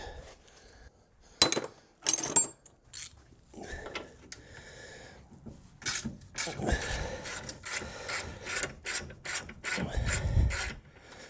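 A ratchet wrench clicks in quick bursts on a 13mm bolt during BMW E36 front-end disassembly, with separate metallic taps early and a busier run of ratcheting and rubbing toward the end, close and moderately loud.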